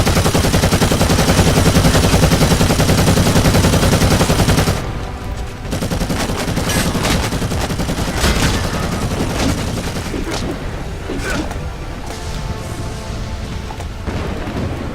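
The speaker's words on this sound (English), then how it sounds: "Yes, I do love me some heavy bolter action." Heavy bolter in Warhammer 40,000: Eternal Crusade hammers out a loud, sustained burst of rapid automatic fire, then drops to scattered shots and battlefield rumble from the other players' weapons.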